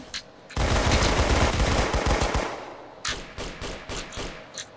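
Sustained automatic gunfire in the Roblox shooter Arsenal, a loud dense burst of rapid shots lasting a couple of seconds, then a series of separate sharp single shots.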